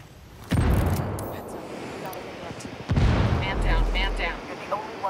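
Heavy booms and gunfire from a firefight in the video game Ghost Recon Wildlands, two loud low-end blasts with rumbling tails over a dense battle bed, a voice occasionally heard beneath.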